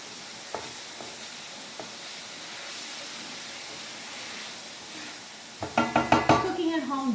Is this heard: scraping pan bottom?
yes